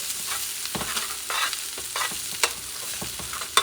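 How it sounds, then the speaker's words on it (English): Garlic cooks on low heat in a pan for Spanish-style rice with pork ribs, giving a soft, continuous sizzle broken by repeated scraping stirs and a couple of sharper clinks near the end. "You don't want the garlic to burn, so you're going to cook this for about maybe still low heat for a couple minutes"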